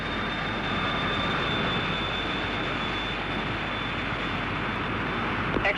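An early British jet aircraft runs its engine before takeoff, a steady, unbroken roar with a thin whine on top, held at a constant moderate level with no voices.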